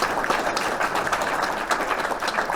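An audience breaks into steady, full applause, with many hands clapping densely and evenly throughout, and no speech heard.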